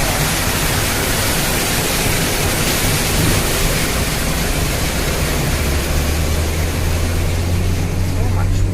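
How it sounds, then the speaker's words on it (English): A waterfall in the Norwegian mountains roars as a constant broad rush of falling water that fills the whole stretch evenly, loud and near, with a low rumble of a vehicle underneath toward the end. "Look at that waterfall"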